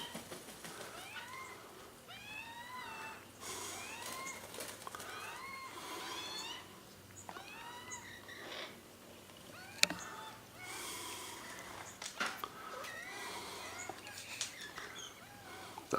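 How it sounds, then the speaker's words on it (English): Wild birds being fed at Loch Sport call in repeated sharp, chirping squawks, fairly close and fairly faint, bursts coming every second or two amid light rustling and a few clicks. "They're cheeky, aggressive little birds."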